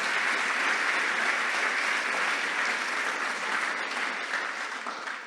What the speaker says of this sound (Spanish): Si estás aquí, dale un aplauso al Señor.